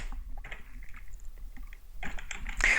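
Fingers typing a command on a computer keyboard, a quick irregular run of close, crisp key clicks with a brief pause in the middle and a denser burst at the end.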